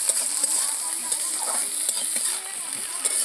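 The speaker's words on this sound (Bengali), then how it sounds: "তেলের মধ্যে পেঁয়াজটা দিয়ে দিলাম।" Chopped onion frying in hot oil in a home kitchen pan, with a steady close sizzle and repeated light scrapes of a spoon stirring through it, no talking.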